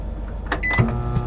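A microwave oven runs inside a turbo kei camper van powered by its inverter, a low steady electrical hum with a few clicks and brief rising whirs from the appliance, close by.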